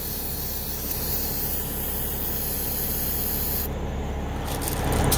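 A steady, close hiss of an aerosol can of ether starting fluid spraying continuously onto a tire rim, a slight change in tone near the end.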